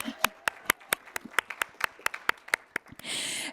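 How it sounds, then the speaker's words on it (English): An audience at a business forum claps in a quick, even, close run of sharp individual hand claps, then breaks into a short spread of broader applause at the end. "Let's clap."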